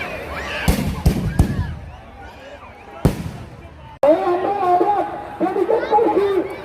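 Fireworks go off at a Ravan Dahan festival in Jhalda, with several sharp, loud bangs and crackles in quick succession while a crowd chatters and a voice speaks over a loudspeaker.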